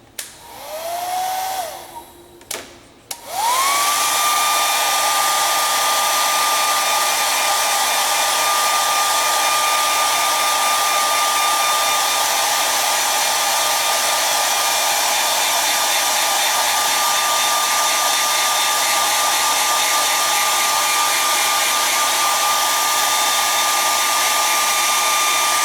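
A heat gun switches on after a couple of brief starts, then blows hot air in a loud, steady high-pitched whine and rushing roar that continues unbroken.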